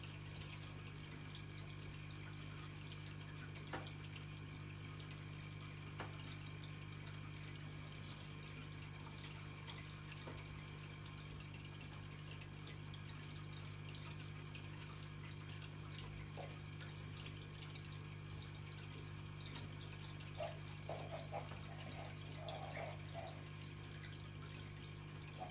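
A turtle tank filter pumps water in a low, steady hum with faint trickling and occasional drips, quiet and constant throughout with no voices.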